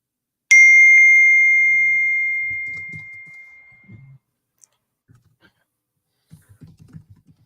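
A single bright computer message notification ping rings out clearly and decays over a couple of seconds, followed by faint low murmurs and soft talk in a quiet room.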